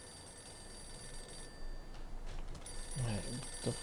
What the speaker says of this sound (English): The phone is ringing again.